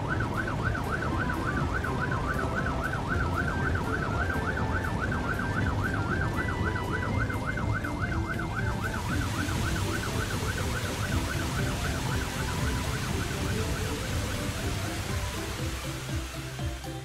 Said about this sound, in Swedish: Om det uppstår en nödsituation sätter brandbilen på sin siren.